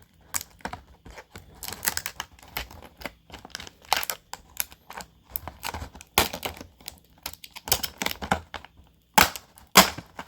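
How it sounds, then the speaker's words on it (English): Packing tape being peeled off an action figure's packaging, a series of close, irregular crackling rips and crinkles with brief pauses between pulls. "let me just take all this tape off"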